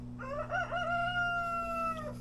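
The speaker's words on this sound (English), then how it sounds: "My rooster is saying hello to everybody." A backyard rooster crows once, a long clear cock-a-doodle-doo lasting about two seconds, close and loud over a steady low hum, with no talking.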